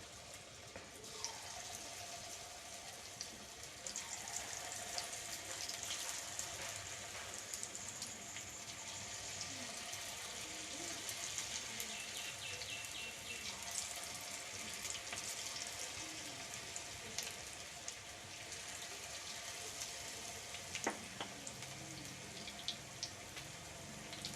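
Tapioca pakoda fries in hot oil, giving off a continuous, soft crackling sizzle with scattered pops over a long stretch, fairly quiet and without talking.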